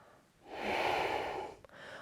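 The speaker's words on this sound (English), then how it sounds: "Taking 2 more breaths here." A single slow, deep breath during a yoga flow, drawn in and released steadily for over a second, close and fairly soft, followed by a faint short sniff.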